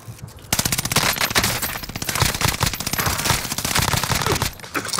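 Rapid automatic gunfire in a battle royale video game, loud and close, firing in sustained bursts with a brief pause near the start and again near the end.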